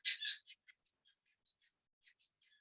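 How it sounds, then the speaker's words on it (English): Birds call outdoors in Thailand: a few loud chirps open the passage, then come sparse, brief, high tweets and squeaks at a distance that thin out into faint scattered notes. "You can hear the birds?"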